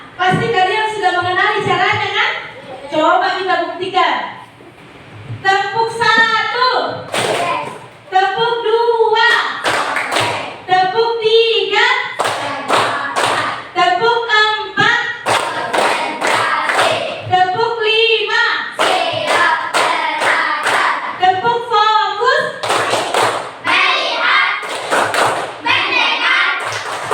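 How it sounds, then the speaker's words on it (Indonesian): A school class performs a rhythmic focus clap, children chanting in unison with sharp patterned claps in repeated bursts, loud and close throughout. "kita ice breathing dulu, tepuk fokus dulu ya"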